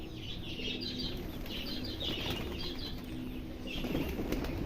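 Released pigeons, including a satin breed, with bursts of wing flapping and fluttering throughout, alongside soft bird calls over a steady outdoor background, fairly close and moderately loud.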